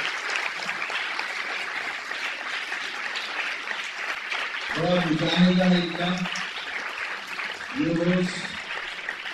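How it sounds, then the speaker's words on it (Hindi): Audience applause rolls through a hall for an Urdu-Hindi poetry event, a steady wash of clapping underneath as someone speaks over it twice in short bursts. "जोरदार तालियां।"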